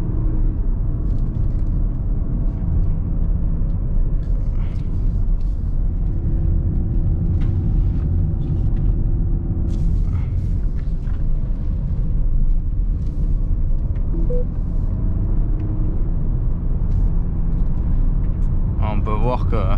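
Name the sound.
Volkswagen Passat R-line DSG7 driven sportily on winding road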